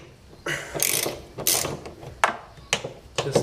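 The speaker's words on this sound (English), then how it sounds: "So I used a socket set and a 3/8 socket to remove this." A ratchet socket wrench with a 3/8 socket loosens the bolts on a Fisher and Paykel washing machine being repaired for fault code 130. It gives several separate bursts of quick, close mechanical clicking with short pauses between them.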